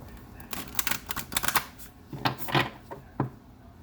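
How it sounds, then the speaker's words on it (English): A Moonology oracle card deck is shuffled by hand in a quiet room: a series of crisp riffling bursts and sharp card taps, close and fairly soft, with short pauses between them. "we'll start out with Moonology deck. 2 more shuffles."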